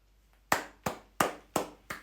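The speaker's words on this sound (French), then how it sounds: "J'applaudis, j'applaudis, j'applaudis." Five sharp, evenly spaced hand claps ring out close and alone, each with a quick decay, in slow deliberate applause.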